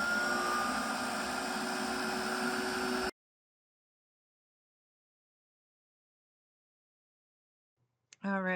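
A Let's Resin curing machine runs with a steady, close whirring hum and fan-like noise for about three seconds, then cuts to silence before a brief faint sound near the end.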